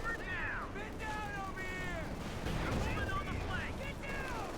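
A Pak 40 anti-tank gun fires in the video game Company of Heroes 2, a dull booming blast mixed into battlefield noise, heard beneath steady commentary.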